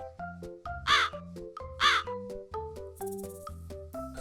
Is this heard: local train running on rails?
no